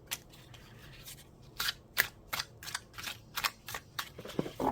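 A prototype tarot deck being shuffled hand over hand, giving a quiet run of light, crisp card slaps and flicks in an uneven rhythm, close up with no talking.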